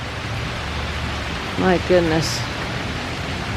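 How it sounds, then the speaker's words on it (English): Heavy rain pours down outdoors as a steady broadband hiss, with a voice briefly exclaiming over it. "that rain is coming down hard"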